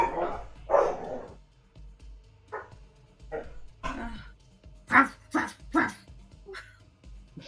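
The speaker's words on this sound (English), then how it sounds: "Did you have to come in here to bark?" A dog barks indoors in the same room, a string of loud, close barks and yips in short bursts, with people talking in between.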